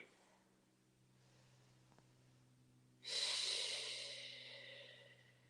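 Breathing during a yoga stretch, a faint soft breath early on, then a louder, breathy exhale that rises suddenly partway through and slowly fades.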